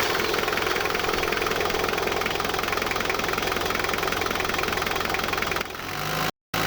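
A diesel engine, freshly fitted with new injectors after contaminated fuel, runs at a steady, even idle with a rhythmic knocking chug, loud and close, then briefly drops out near the end.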